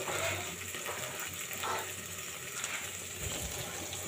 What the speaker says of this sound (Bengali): দেখুন আমি এগুলো ভেজে নিচ্ছি।